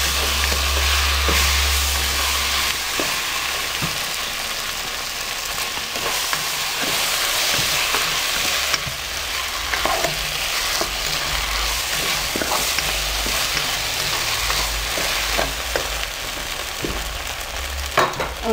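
Red rice with poblano chili fries in a pan and is stirred, giving a close, steady sizzle broken by repeated scraping clicks of the spoon against the pan.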